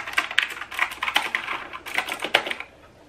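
Rapid, crisp clicking of an AUKEY 104-key RGB backlit mechanical gaming keyboard with blue switches, close-up keystrokes in uneven bursts for about two and a half seconds before trailing off.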